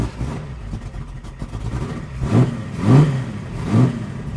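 Superformance GT40 MKII engine fired up and blipped, a low idle rising into three distinct throttle revs spaced about half a second apart, close and fairly loud.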